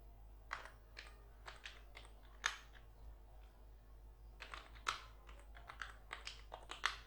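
Quiet computer keyboard typing in Microsoft Excel, scattered clusters of soft key clicks with pauses between bursts over a low steady hum, no talk.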